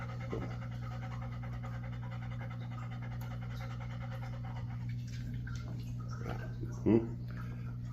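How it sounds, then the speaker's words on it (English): A dog pants rhythmically and close over a steady low electrical hum, with a short louder burst near the end; no clear speech. "So Gary's constant pressure there made the dog go into a sit"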